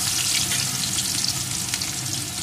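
Chopped onion frying in hot oil left from frying pomfret fish, a dense, even sizzle close by with faint stirring, no voices.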